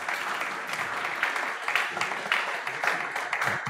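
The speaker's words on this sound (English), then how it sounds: "A big applause." An audience at a student IoT and AI pitch challenge closing session applauds with dense, sustained clapping that carries on steadily throughout, with some voices underneath.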